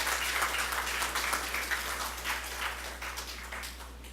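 A crowd in Kumana applauds at the opening of a new public facility, a steady wash of clapping over a low electrical hum that fades slightly toward the end.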